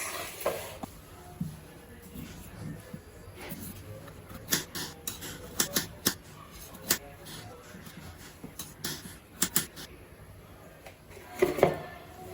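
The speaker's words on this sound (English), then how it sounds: "Now let's cut them into small cubes." Knife cutting peeled potatoes into small cubes, giving a run of sharp, irregular chops and clicks against a board, near and moderately loud, with no talking.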